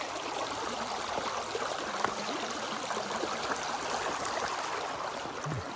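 A small stream runs steadily at a dam pond inlet crossing, a continuous rushing, trickling flow heard up close, with no voices.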